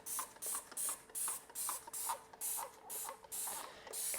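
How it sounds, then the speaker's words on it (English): Hand spray bottle applying pest treatment to a houseplant stem: about eleven quick hissing spritzes in a fast, regular rhythm, close and crisp, with no voices. "I'm gonna get down in here and spray the stem down here really good too with this stuff"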